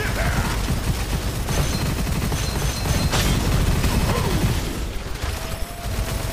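Explosive effects from a weapon in the shooter Gunfire Reborn, heard as rapid, continuous gunfire with repeated blasts and mechanical clatter at a steady, loud level, with a voice talking over it.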